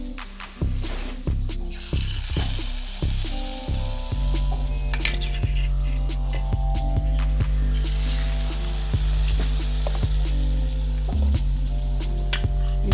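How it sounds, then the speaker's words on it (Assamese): Okra fritters coated in gram flour batter sizzle steadily in hot oil, a loud continuous frying hiss with a few soft clinks of utensils near the start as pieces are dropped in one by one. "এতিয়া মই তেলত ঢালি দিম এটা এটাকৈ।"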